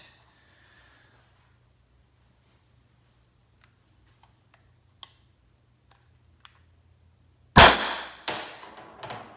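A shot from an Umarex HDP 50 home defence pistol fitted with a modified pin kit: one loud sharp crack after a quiet stretch of faint clicks, with a brief tail and a smaller report close behind.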